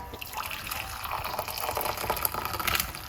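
Lemon and ginger tea with a slice of ginger is poured off, heard as a steady, close splashing pour of liquid that runs continuously without talk.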